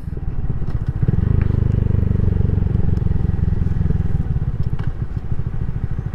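Honda MSX 125 motorcycle runs close by with a throbbing exhaust, its engine swelling briefly while a few sharp pops and crackles snap out of the pipe.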